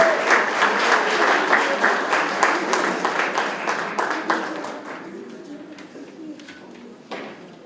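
Applause at an awards ceremony honoring women in science, with strong clapping that gradually thins and fades into a few scattered claps, and a low cooing tone running underneath.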